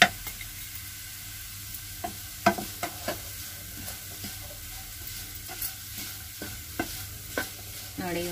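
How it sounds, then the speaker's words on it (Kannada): Potato fry sizzles quietly in a pan, and a spoon scrapes and taps against the pan in scattered strokes, close by with no talking. "ನೋಡಿ ಇದು ಆಲ್ಮೋಸ್ಟ್ ಫ್ರೈ ಆಯಿತು."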